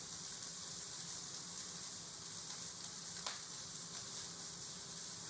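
Brussels sprouts caramelize in a hot frying pan with a continuous, even sizzle, broken by a faint sharp pop near the end, with no one talking.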